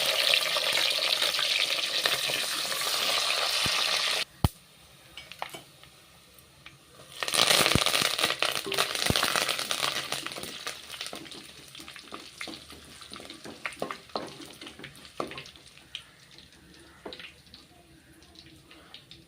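Shallots frying in a pan while being stirred: a steady loud sizzle that drops off abruptly, then returns, with scattered scraping stirs and clicks of a spoon against the pan.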